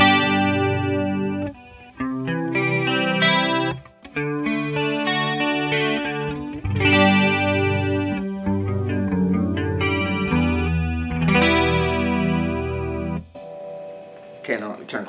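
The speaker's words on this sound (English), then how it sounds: "Now I'm going to put chorus on, and that's going to sound like this." Electric guitar through a chorus pedal plays a run of shimmering, doubled-sounding chords and single notes for about thirteen seconds. The notes ring and shift in a loose rhythm, then fade into a brief softer tail.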